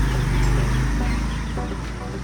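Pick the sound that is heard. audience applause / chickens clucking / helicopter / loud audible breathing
chickens clucking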